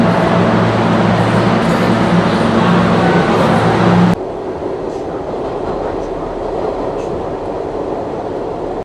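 A New York subway A train rumbles loudly close by, with a heavy roar that drops suddenly to a quieter rolling noise partway through.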